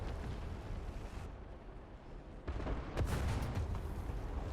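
Artillery fire in War Thunder during a modern tank battle, heavy low rumbling blasts and booming reports, loud and continuous across the short stretch with a sharper burst near the end, no talking.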